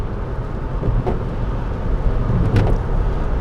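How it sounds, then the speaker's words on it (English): A car travels along a road after heavy rain, giving a steady low engine and tyre rumble with faint passing swishes, continuous and fairly loud from inside the cabin. "which is why I'm making the journey today by car"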